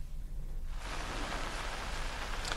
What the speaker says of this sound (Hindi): अभी भी सुबह से ही बारिश हो रही है